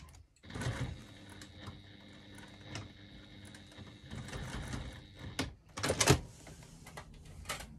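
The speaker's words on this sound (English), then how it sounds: "now I'm going to do a second line of stitching 1/8 of an inch further on" A sewing machine stitches a second line across a bag strap connector, running in a steady close-up whir for several seconds before stopping, followed by a few handling clacks and rustles.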